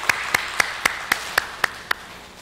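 In a church Sunday service, about eight evenly spaced, fairly quiet claps mark applause for the choir, falling at a steady beat of roughly three to four per second.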